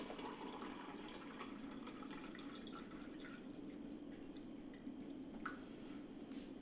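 Regular-temperature water runs from a Brio Moderna bottleless water dispenser into a cup, a steady close trickle and fill with a few small drips and clinks, alone without talk.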